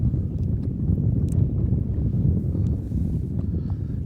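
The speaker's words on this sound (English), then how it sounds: "the wind just picked up probably 10 mile an hour faster than what it was" Wind blowing across a lake while fishing from a boat, a continuous gusty rumble of microphone buffeting with a few faint clicks and knocks and no talk.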